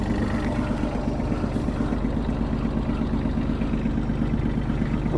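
A small Japanese ISEKI SIAL5 compact tractor with permanent four-wheel drive and a rotary tiller, its slightly cold engine idling in a steady low clattering chug, close and continuous throughout.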